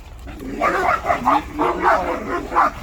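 Dogs, among them a Kangal, give a burst of eager barks, yips and whines while waiting for their evening feeding, close and loud in short overlapping calls.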